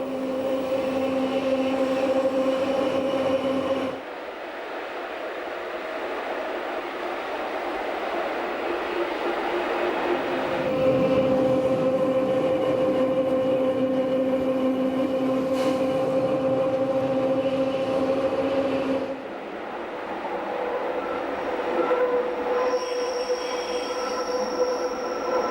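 The Bernina Express rolls along a Swiss mountain railway with a loud, sustained rumble and long, steady wheel squeals rising and falling as it moves, with no voices.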